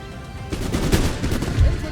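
Musket volley gunfire from line infantry in Empire Total War: a cluster of overlapping cracks and rattling shots bursting out after a quieter start, dense and fairly loud, with a faint voice mixed in.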